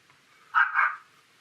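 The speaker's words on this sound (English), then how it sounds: "The last one's a dog barking." A single short dog bark, close and clear, against near silence.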